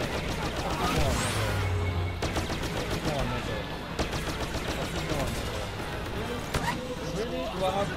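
Rapid video-game gunfire shooting through a wall, dense bursts of shots crackling continuously over a busy game soundscape while a player talks in the background.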